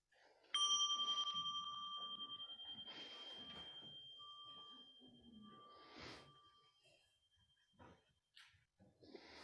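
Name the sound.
small meditation bell rung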